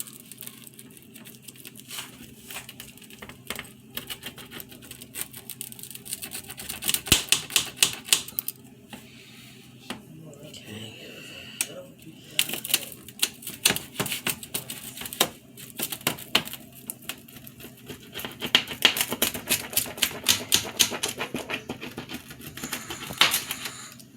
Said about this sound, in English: I'm going to cut these.